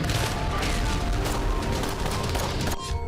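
Rapid gunfire recorded during a military operation at Al-Shifa hospital in Gaza, a steady rattle of shots over loud noisy background throughout, cutting off abruptly near the end.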